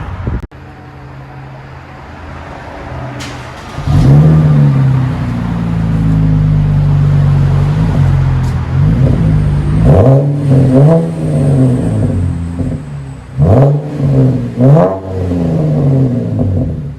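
A Chevy Camaro with a 3.6L V6 and a straight-pipe exhaust revs loudly several times after a quiet start. The deep, rising revs sweep up and fall back, then settle into a throaty idle between blips.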